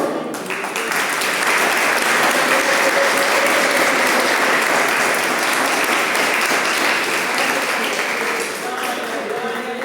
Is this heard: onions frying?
no